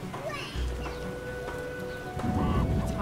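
Rain and rumbling thunder in The Witcher video game, a steady wash of rain with low, deep thunder rolls swelling near the start and again toward the end, fairly loud and continuous.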